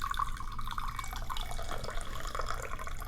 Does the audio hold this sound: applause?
no